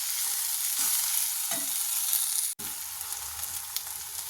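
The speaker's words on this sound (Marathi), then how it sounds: "2 मिनटं झाले, झाकण काढून भाजी पुन्हा हलवून घ्यायची." Coriander-leaf vegetable dish stirred in a pan after the lid comes off, with a steady broadband sizzle of frying and a few soft scraping strokes, briefly broken by a sharp dropout midway, no voices.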